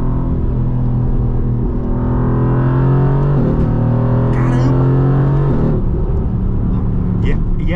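A Mercedes AMG car accelerating hard, engine droning loud and close with rising tones as it climbs through the revs, a gear change partway through, while someone talks over the engine from inside the car.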